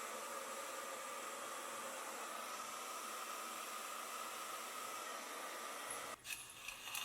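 A hair dryer fitted with a comb attachment blows steadily at close range, a constant airy hiss while natural hair is straightened for a silk press, with a brief shift in tone near the end.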